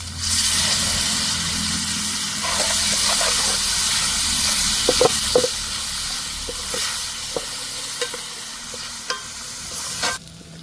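Onion, green garlic and tomato dropped into a hot tadka for Saurashtra-style panchkuti dal, giving a loud, close, continuous sizzle with intermittent stirring clinks and scrapes; the sizzle fades toward the end, with no talking.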